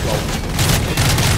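A grenade blast in the Call of Duty MW3 special ops game, a dense booming burst with rumbling, crackling gunfire mixed in and no gap in the noise.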